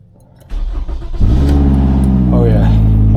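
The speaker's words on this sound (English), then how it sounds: "Oh yeah, nice exhaust leak." A 2011 Toyota Camry with an exhaust leak starts up and is revved nearby, its engine note rising to a loud, steady roar after a brief quieter idle.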